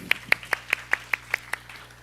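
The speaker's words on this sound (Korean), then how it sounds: "네, 다시 한번 박수할까요?" A youth congregation at a Korean church Sunday service claps in unison, eight evenly spaced, crisp group claps at a steady rhythm, close and fairly loud with a low hum beneath.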